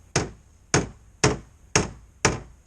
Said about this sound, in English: Grandpa's hammer.